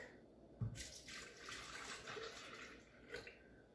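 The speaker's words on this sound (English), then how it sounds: "So add the first stage ingredients, which is, we have 2 cups of milk" Two cups of milk poured into a Pampered Chef deluxe cooker, a soft splashing liquid stream starting abruptly and running on for a few seconds, fairly quiet and close, with no talking.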